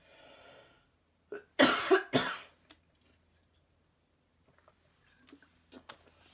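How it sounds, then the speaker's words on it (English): Two or three harsh coughs in a quick cluster near the mic, then quiet breathing and faint movement. "I have a little bit of a cough going around"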